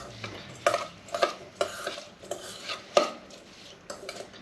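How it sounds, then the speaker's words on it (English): A spoon clacks and scrapes against a bowl while pico de gallo is roughly stirred with lime juice and cilantro; several distinct knocks land at uneven intervals over a quiet background. No one speaks. "put in the lime juice, the cilantro, another rough stir"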